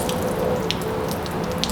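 Water running off a car panel treated with Turtle Wax Seal N Shine, a steady close hiss of sheeting flow with faint scattered drips, no voices.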